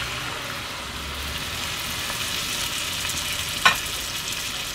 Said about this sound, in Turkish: Bekletmeden hemen üzerine doğramış olduğum domatesleri ekliyorum